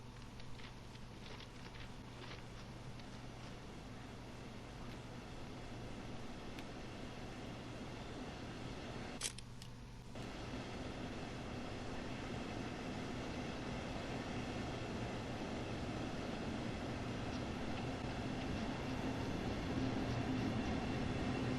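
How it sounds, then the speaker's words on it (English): A train pulls into a station on the Cologne–Aachen high-speed line, a steady low rumble and rolling hum that builds slowly and stays moderately distant, with a brief sharp click partway through. "There's a train coming in as well."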